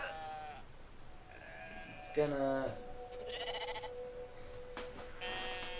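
Sheep bleating in the video game Brothers: A Tale of Two Sons, a few short wavering bleats near the middle, heard under ongoing talk from a player.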